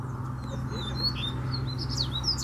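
A caged double-collared seedeater (coleiro) sings rapid, high, thin chirps and twittering phrases, fairly faint against a steady low hum of background noise.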